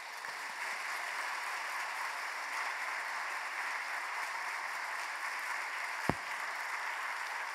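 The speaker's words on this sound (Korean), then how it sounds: "우리 큰 박수로 한번 목사님 맞이하겠습니다" A church congregation at an evening spring revival service claps steadily to welcome the pastor, an even, moderately loud wash of many hands with a single sharp knock near the end.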